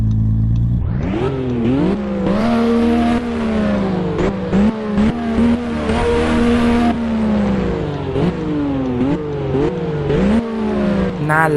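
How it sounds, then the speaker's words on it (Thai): A twin-turbo Toyota Supra in the Roblox game Driving Empire does a tire burnout, its engine revving loud and continuous with a rising and falling whine, sharp shift-like dips and tire screech throughout. "เบิร์นยางก่อนเบิร์นยางก่อน เบิร์นยางโอ้"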